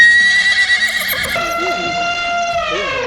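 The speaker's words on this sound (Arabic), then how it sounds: "حصان شاف صاحبته وحصان تاني بيرخم عليها فجري عليه وزقه" A horse neighs loudly and close by in one long, wavering whinny that trails off, with faint clip-clop and background noise beneath it.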